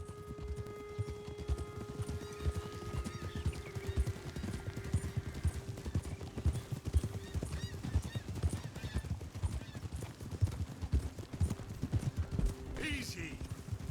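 Horse hooves clip-clop in a steady close rhythm in the Red Dead Redemption 2 video game, with a whinny toward the end and voices talking over the hoofbeats.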